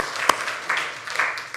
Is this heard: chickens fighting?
no